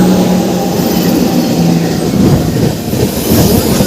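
A crowded Kolkata to Digha local train rolls along with a steady, loud rumble of wheels and carriages, a continuous rattling ride sound with no voices standing out.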